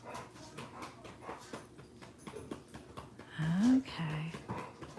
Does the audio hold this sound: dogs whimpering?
yes